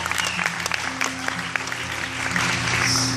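An audience at a church talk breaks into applause, a steady patter of many hands clapping at moderate distance.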